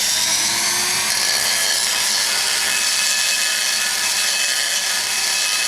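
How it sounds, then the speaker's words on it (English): A Dremel rotary tool grinds the exhaust port of an LS engine cylinder head, giving a steady, close, high-pitched abrasive whine that runs unbroken with no talking. "Take your Dremel, get it going quick."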